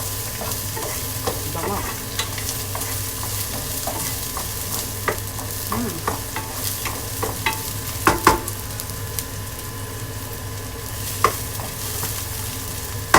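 Garlic frying and being stirred in a pan while fish steak is prepared, a steady close sizzle broken by repeated scraping stirs, with a brief spoken word partway through.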